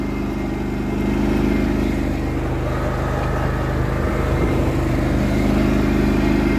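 A Cub Cadet GT2544 garden tractor fitted with AGRO tires runs at a steady, loud, close engine drone while its implement is raised, with no voices.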